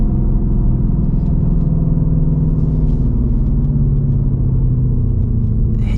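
A 500-horsepower 2024 Ford Mustang GT pulls hard under acceleration, a loud, deep, continuous engine rumble heard from inside the car, steady throughout with no talk.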